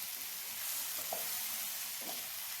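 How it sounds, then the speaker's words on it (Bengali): Onion greens (peyajkoli) with a handful of coriander leaves fry in a pan, giving a faint, steady sizzle with a couple of soft stirring scrapes. "1 মুঠো পরিমাণে ধনেপাতা দিয়ে ভালোভাবে এটাকে নাড়াচাড়া করে ভাজা ভাজা করে নিতে হবে।"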